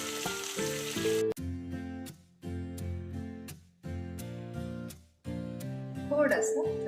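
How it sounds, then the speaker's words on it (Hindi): Finely chopped onion and four cloves of garlic hit hot oil and butter, giving a close, steady sizzle that keeps breaking off in cut-off bursts under background music, with a few stirring clatters near the end. "तेल और बटर को अच्छे से गर्म हो जाने के बाद मैंने ये बारीक प्याज काटा है और इसमें 4 लहसुन की कलियां भी मैंने इसमें बारीक काट के रखी है। मैं इसमें डाल रही हूँ।"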